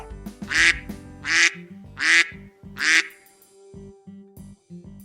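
A voice imitates a duck quacking, four loud, drawn-out quacks evenly spaced under a steady background tune.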